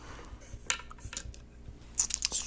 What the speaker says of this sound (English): And then we would just take the dice and roll it through.